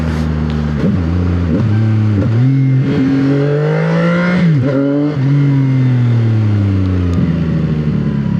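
A motorcycle engine, a newly acquired bike with more displacement than a Yamaha R6, revs loud and close while riding, the pitch climbing and dropping through several throttle swells and gear changes over continuous engine drone, with no speech.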